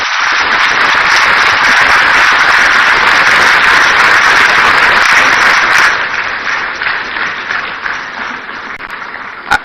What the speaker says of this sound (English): I guess the spontaneity of the applause shows the quality of the work